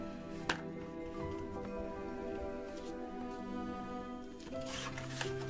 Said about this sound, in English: So then I'm just gonna kind of crease these edges.